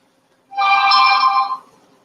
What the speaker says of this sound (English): that's my phone chiming in here